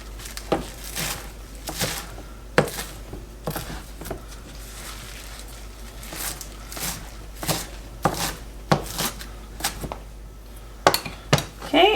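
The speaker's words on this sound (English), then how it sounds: "we're just going to chop this up really fine to mix it into our cheese." A knife chops spinach finely on a board, giving a loud, irregular run of close thuds and clacks with brief pauses between bursts.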